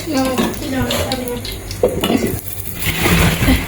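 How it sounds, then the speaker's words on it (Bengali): An egg fries in a home kitchen pan with a steady sizzle, mixed with scraping and clinking of a utensil against the pan, while a voice speaks briefly nearby. "ডিম ভাজতেছি"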